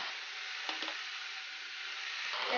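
Spring roll vegetable filling with chopped spring onion frying in a pan, a steady close sizzle with a couple of brief stirring scrapes.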